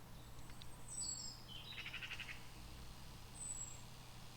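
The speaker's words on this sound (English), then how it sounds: "But listen to the birds." A few faint bird chirps and a short trill ring out from a distance over quiet outdoor background.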